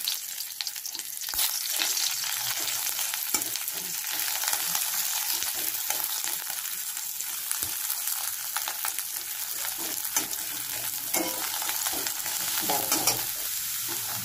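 Onions frying in a shallow film of mustard oil for a Bengali chicken kasha, a steady loud sizzle throughout with occasional scrapes and clicks of stirring.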